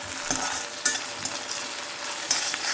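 Potato, onion and curry leaves sizzle steadily in a hot pan, with a continuous bright frying hiss and occasional stirring scrapes, close up, with no voices.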